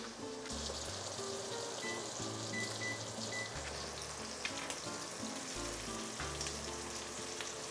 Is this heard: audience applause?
no